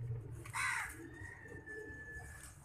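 A pigeon coos once, a soft throaty burst, with low rumbling background noise and a faint sustained tone.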